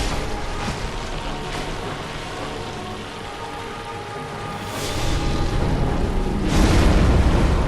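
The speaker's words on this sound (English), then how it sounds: "There's the explosion attack I told you guys about." A boss's explosion attack in a video game erupts as a broad, roaring burst that swells in two waves near the end, over a steady noisy rumble of game ambience.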